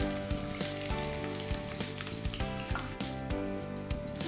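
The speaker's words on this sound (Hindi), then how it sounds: "अभी हमें प्याज को गोल्डन फ्राई कर लेना होगा।" Two medium onions, sliced, fry in hot oil until golden for a mutton korma, making a close, dense crackling sizzle with scattered sharp pops and light utensil taps, no voices.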